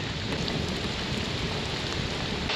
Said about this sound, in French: On est toujours bien sous la pluie.